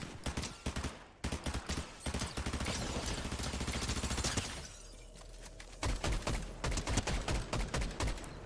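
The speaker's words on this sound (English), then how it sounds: "Who the heck's shooting me?" Rapid bursts of in-game gunfire crack out in a Fortnite match, aimed at the player: sharp, close shots in clustered volleys, a sustained roar in the middle, then more spaced staccato shots toward the end, with no talking.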